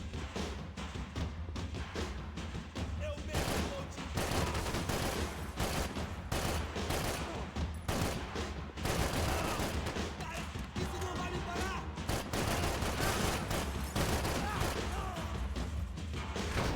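Gunfire in the video game Max Payne 3 rattles almost without pause in rapid, loud bursts of shots and impacts. Dense fire runs across the whole stretch.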